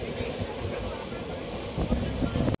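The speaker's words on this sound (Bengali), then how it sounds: "তো এখন ট্রেন ছেড়েছে" Superfast passenger train from Kolkata to NJP running at speed, with a continuous loud rumble and rattle of wheels on rails, occasional high metallic squeals, and voices in the carriage.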